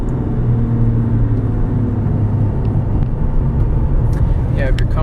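A 2005 Mercedes-Benz E320 CDI turbo-diesel sedan brakes to a stop, with steady road rumble and low engine drone heard from inside the cabin, constant and fairly loud.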